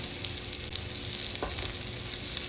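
Vegetables hit a hot pot of Jack Daniels pot roast with a steady, close sizzle and frying crackle, plus a faint clink partway through.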